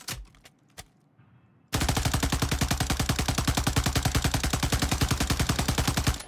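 Sustained automatic gunfire from a TAC Eradicator in a video game, a rapid, steady stream of loud close shots running for several seconds after a brief quieter moment of faint clicks.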